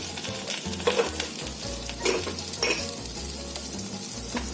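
Pointed gourd pieces sizzle and crackle in hot oil in a pan, a steady close frying hiss with occasional stirring scrapes and clinks.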